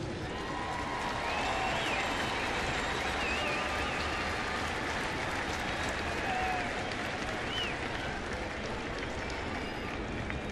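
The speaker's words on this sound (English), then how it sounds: "nice round of applause for Chipper Jones all weekend long" A baseball crowd applauds Chipper Jones, a steady, dense wash of clapping and cheering from a large stadium audience that holds for about ten seconds without a break.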